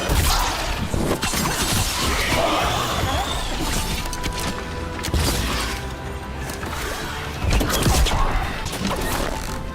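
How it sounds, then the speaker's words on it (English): Despair spirit manifestations shattering in the video game Dragon Age Veilguard, a series of loud glassy smashes and crashes over battle noise and music, recurring every couple of seconds. "If provoked, these manifestations will shatter."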